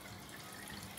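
Water being poured into a pan while cooking clams for spaghetti alle vongole, a brief quiet splashing trickle that runs steadily for about a second without talk.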